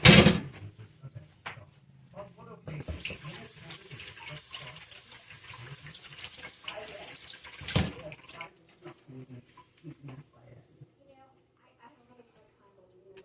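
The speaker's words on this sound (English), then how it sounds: "Wash my hands." Hands washed under a running kitchen tap give a steady hiss of water for several seconds, then a clunk as the flow stops, followed by quiet handling sounds and a person talking throughout.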